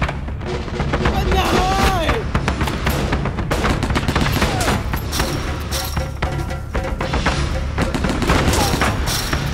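Dense, loud gunfire from many muskets in a Skirmish Line video game battle, with overlapping volleys, scattered single shots and booming reports running continuously, with voices mixed in under the firing.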